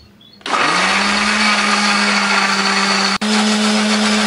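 An electric blender starts up and grinds a spice paste for tofu, a loud, steady whirring drone that runs on evenly with one brief cut-out near the end.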